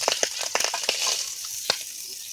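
An egg frying in a pan at home: a thin, steady sizzle with quick crackles and popping spits scattered through it, close and moderately loud, no talk heard.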